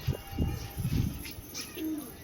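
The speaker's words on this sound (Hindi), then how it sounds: "हमारा लड़ता हुआ कबूतर है गंडेदार।" Soft throaty cooing of a fighting pigeon in short bursts against a constant rush of strong wind, fairly close.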